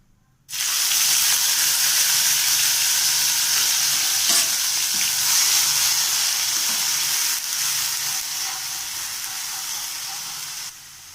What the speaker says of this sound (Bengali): তেলটা গরম হয়ে গিয়েছে, এর মধ্যে আমি এবার দিয়ে দেবো কাঁচা লঙ্কা আর আদা বাটা